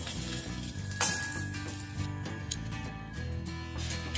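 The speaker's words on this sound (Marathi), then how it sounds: "फ्राय करताना मात्र आपण पाणी वगैरे टाकायचे नाही, फक्त 2 चम्मच किंवा 3 चम्मच तेल टाकूनच आपण फ्राय करायची।" Shredded cabbage fries in a pan with only a few spoonfuls of oil and no water. A steady close sizzle runs throughout, with an occasional faint clink of a utensil.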